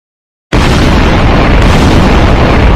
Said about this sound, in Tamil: கட்டிடம் சுக்குநூறாக தகர்ந்து விட்டது